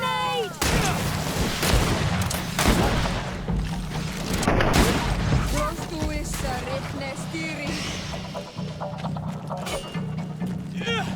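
In the GreedFall video game, a grenade explodes amid combat, with several heavy booming blasts spaced through the scene and voices talking and shouting over the din.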